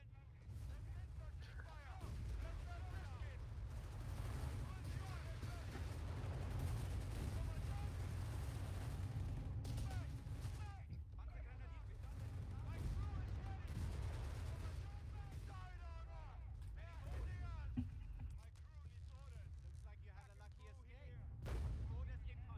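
Repeated artillery booms and gunfire rumble through a Company of Heroes 3 match, fairly quiet overall, with a voice talking over parts of the battle.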